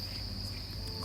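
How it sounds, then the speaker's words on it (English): Farmed crickets chirping in a bin, a continuous shrill trill held steady and close, with low hum beneath and no voices. "you've got too many crickets in the bin"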